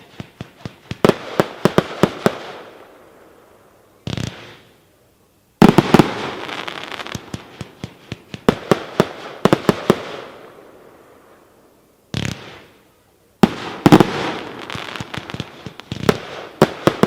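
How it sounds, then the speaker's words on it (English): A 49-shot brocade fireworks cake with assorted effects fires in loud rapid volleys of sharp bursts, broken by a few short pauses and trailing crackle, heard near and alone. "Number eight, 49-shot brocade with assorted effects"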